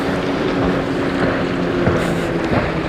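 Steady rushing water and wind against a moving boat, with splashing churn from a wake washing past up close.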